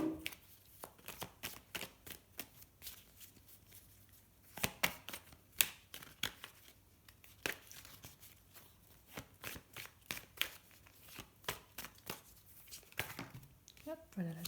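Tarot cards shuffled by hand in uneven bursts of papery flicks and riffles, some sharp snaps standing out, with a voice speaking at moments between the bursts.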